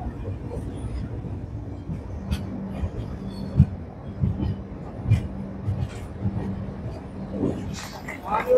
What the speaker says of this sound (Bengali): আটটা 50 ট্রেন আমাদের ঢুকে গেল সেকেন্দ্রাবাদ জাংশন